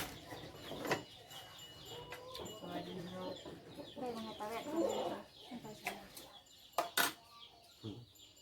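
Chickens cluck repeatedly at an outdoor rural meal setting, giving short throaty calls that blend with background voices and scattered clatter, moderately near.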